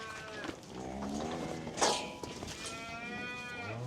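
Several cows moo in overlapping, drawn-out calls, loud and close, with one brief thud partway through.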